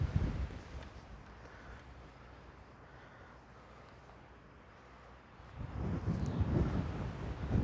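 Strong, gusty wind on a golf course in Rochefort buffets the microphone with a low roar, easing through the middle and then rising to heavier gusts, with no talking.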